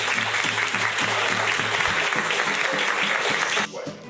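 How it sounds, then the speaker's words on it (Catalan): Audience applause at a poetry and food performance evening, steady dense clapping for a few seconds with some voices mixed in beneath, stopping abruptly near the end. "es mereix un aplaudiment"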